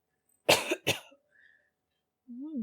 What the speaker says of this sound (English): I don't know why I felt like coughing